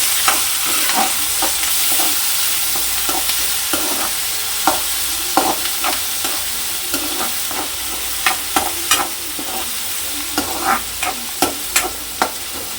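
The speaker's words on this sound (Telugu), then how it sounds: "ఆనియన్స్ గోల్డెన్ బ్రౌన్ కలర్ వచ్చేంత వరకు ఫ్రై చేసుకోవాలి." Onions, green chillies and curry leaves sizzle in hot oil in a pan for crab curry, a continuous close frying hiss broken by regular scraping clicks as the mixture is stirred.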